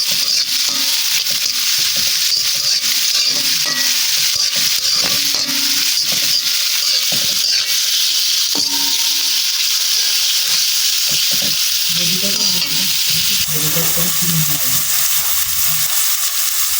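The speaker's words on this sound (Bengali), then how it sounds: "এই রসুন পেঁয়াজগুলো এখন ভাজা ভাজা করে নেব" Garlic and onion fry in a wok with a loud, continuous sizzle and hiss, broken by repeated scraping stirs. The cooking is for a horn fish curry with tomatoes, and no one speaks.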